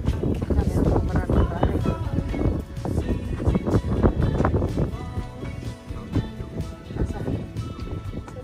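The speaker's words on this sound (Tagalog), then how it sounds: "Ito na hangin dito." Wind gusts buffet the microphone at a high lookout atop a stone house, a loud, continuous rushing roar that swells and eases throughout while people talk over it.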